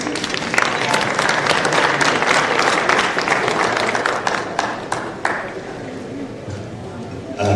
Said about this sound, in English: A clap for him as he comes